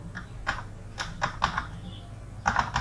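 Keys tapped on a computer keyboard in short irregular bursts, close and fairly quiet, with a steady low hum underneath and no talking.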